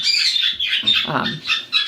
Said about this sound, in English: the birds are super loud